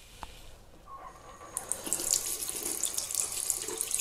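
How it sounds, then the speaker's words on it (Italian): Tap water runs steadily over a washing machine's front drain filter in a sink, a close splashing rush that swells after a second and continues with light dripping, no voices. "Rimuoviamo tutti i residui di sporco all'interno del filtro utilizzando dell'acqua."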